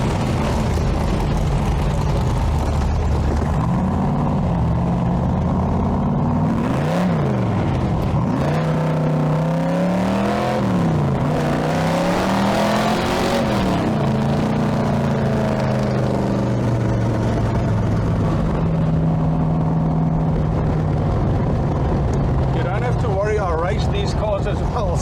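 A Cobra sports car engine drones and revs as it drives, pitch rising and falling through gear changes, loud and continuous under steady conversation inside the car.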